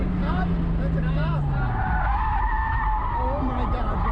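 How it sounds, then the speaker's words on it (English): A car locks up its brakes and spins out in front of a police officer, giving a loud sustained tire skid and squeal with engine noise that dominates throughout, as a voice is briefly heard. "Lock up the brakes and spin out in front of the cop"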